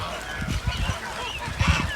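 Geese honk repeatedly at a farm raising geese and ducklings, a flock of loud, overlapping calls close by with no talk over them.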